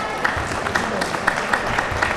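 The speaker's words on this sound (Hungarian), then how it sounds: "A taps pedig egyértelműen a 10-es mezben játszó Kaló Zsófinak szól." Crowd applause at a women's handball match for player Kaló Zsófi, wearing number 10, a steady spectator clapping with rhythmic louder claps that carries on under a commentator talking throughout.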